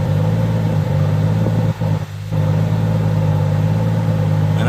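A car engine idles steadily up close with a constant low drone as electric cooling fans, wired through two relays, switch on and briefly dip the idle before it settles back.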